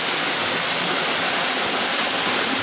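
Sitakund waterfall in Odisha pours clear water in a loud, continuous roaring rush, close by and without talk.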